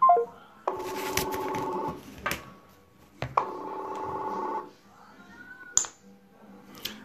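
A phone call to Marie Larose rings out as two long, near ringback tones separated by pauses, with brief clicks and a short voice at the start.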